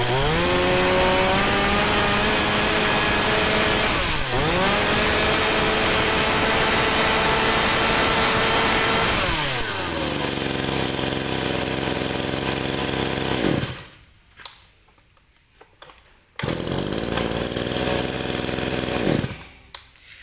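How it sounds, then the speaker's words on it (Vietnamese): A Shinawa 395 large logging chainsaw runs loud and close, its engine revving up and dropping back in long sweeps before cutting out to idle gaps and roaring again. "C23 là cái con cưa Shinawa 395 anh em, một cái dòng cưa khai thác lớn của hàng Shinawa luôn ha."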